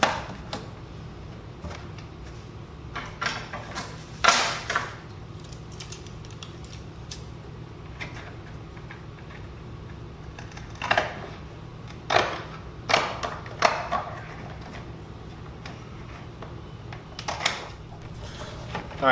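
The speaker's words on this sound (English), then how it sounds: "Now I'm going to cut the second strip." Intermittent snips and crisp cuts while a strip of heat tape is cut for a DIY PVC snake hatchling rack, several separate close clicks and snaps spread over a quiet room background.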